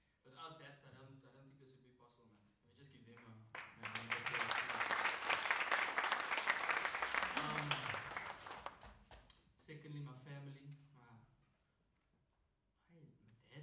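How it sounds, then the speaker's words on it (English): Audience applause at a university final drum recital, swelling from talk into several seconds of dense, steady clapping before fading back under a man's speech on both sides. "Let me just give them a round of applause."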